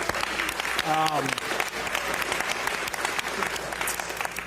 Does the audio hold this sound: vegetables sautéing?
no